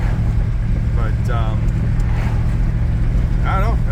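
A 1977 Pontiac Bonneville engine hums smoothly and steadily as the car drives home, a loud continuous low drone from inside the cabin, with a voice speaking briefly over it.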